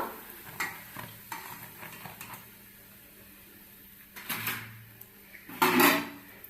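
Rice flour vadiyalu fry and puff in hot oil, a low sizzle broken by a few scraping stir bursts and louder splashes near the end, close by with no talk.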